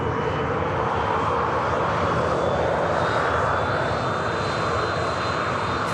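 A Qatar Airways Boeing 777 airliner at an airport gives a steady, loud, broadband engine roar with a faint high whine, unbroken throughout.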